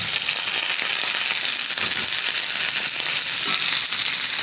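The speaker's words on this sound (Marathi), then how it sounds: "आता यामध्ये या वाफवलेल्या भाज्या पण हलक्याशा टॉस करूया" Steamed vegetables and paneer sizzle as they are tossed in hot oil for Veg Kolhapuri, giving a dense, continuous crackling fry hiss with no speech over it.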